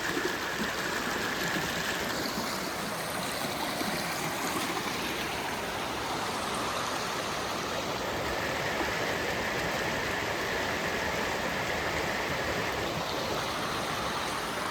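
Steady broadband rush of a stream flowing over rocks along a hiking trail near Purgatory Falls, continuous and fairly close, with no voices.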